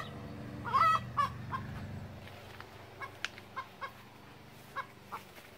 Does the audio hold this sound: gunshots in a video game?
no